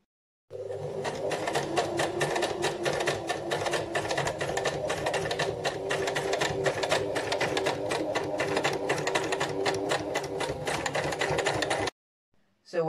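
A sewing machine stitches two pinned front fabric pieces together in one steady, continuous run, a fast mechanical whirring chatter that holds even for about eleven seconds, then stops abruptly.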